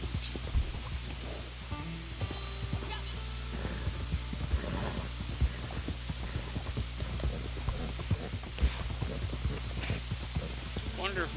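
Horse hooves clip-clop in a Red Dead video game, a fast rhythmic trot of sharp repeated hoofbeats running steadily throughout over a low background hum.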